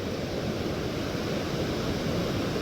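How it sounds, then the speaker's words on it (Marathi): Evening sea at high tide, waves washing onto the beach as a continuous dense roar of surf, steady and fairly loud with no voices. "संध्याकाळचा समुद्र बघा लाटाचा आवाज भरपूर येतोय"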